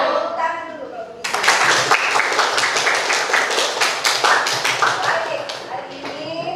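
A classroom of students claps together in a burst of rapid, loud applause that starts suddenly and tapers off after several seconds, with a teacher's voice heard briefly beforehand.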